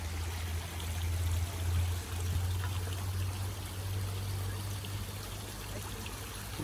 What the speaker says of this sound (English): Look at the waterfall. This is a nice fall off.